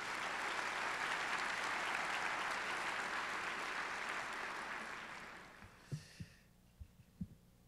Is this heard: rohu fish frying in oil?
no